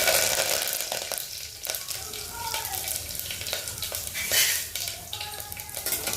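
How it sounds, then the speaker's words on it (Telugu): Mustard seeds, cumin, fenugreek seeds, urad dal and a dried red chili crackle and sizzle in hot oil for a tempering, loud and close, with a few stirring scrapes over a continuous bubbling hiss. "ఆవాలు, జీలకర్ర, కొంచెం మెంతులు, మినపప్పు, ఇంకా ఒక ఎండుమిర్చి చేసాను. అవి కొంచెం ఫ్రై చేస్తున్నాము."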